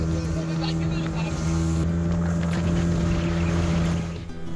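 A speedboat engine drones loud and steady far out at sea off Kuakata, with low engine hum, wind and water rush, and a person talking over it.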